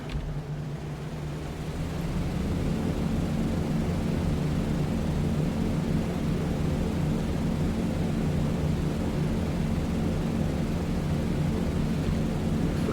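B-17 bomber engines in a flight simulator, a steady, loud multi-engine propeller drone with a deep throbbing hum that swells slightly after the opening seconds and then holds constant.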